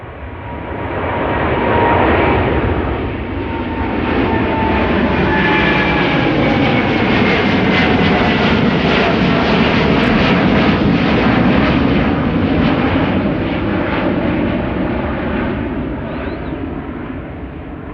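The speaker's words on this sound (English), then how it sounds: "KLM flight 615 to Portland, Oregon is taking to the sky." KLM Boeing 787-10 Dreamliner taking off at Amsterdam Schiphol, a loud, sustained jet engine roar that swells and holds steady for the whole stretch with a rising whine, then gradually eases as the airliner climbs away.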